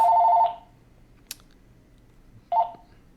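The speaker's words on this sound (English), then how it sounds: "I'm just getting a phone call. I thought I had shut that off." A phone rings with an incoming call during a weekend market review, two short electronic ring bursts about two seconds apart, fairly loud and close, with quiet room tone between and no talking.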